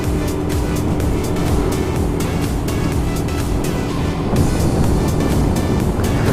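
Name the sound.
115 cc motorcycle engine straining uphill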